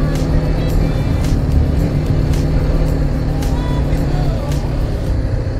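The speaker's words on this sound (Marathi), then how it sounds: "ॲक्च्युली ट्रॅफिक ऑनकमिंग थोडासा जास्त आहे आणि थोडासा अनमॅनेज आहे, त्यामुळे जास्त ट्रॅफिक वाटतं आहे" Steady, loud oncoming road traffic on a motorcycle ride to Tamhini via Ambey Valley, with dense car and bus noise rumbling continuously close by and occasional brief passing whooshes, heard from the moving bike.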